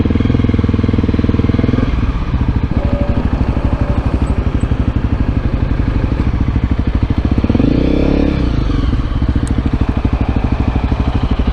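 A Honda CRF250L dual sport motorcycle being ridden, its single-cylinder engine thrumming in a steady close pulse with a brief rev rise near the middle, wind noise mixed in.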